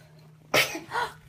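A baby lets out a single sudden, sharp sneeze, a short burst followed by a softer trailing breath, close and fairly loud against a quiet room.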